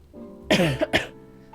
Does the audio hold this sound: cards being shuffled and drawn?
no